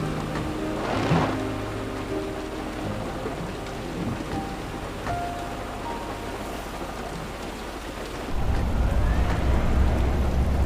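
Rain falls steadily on a moving car during a drive, a dense close wash of patter over low cabin rumble that swells louder near the end, with faint voices underneath.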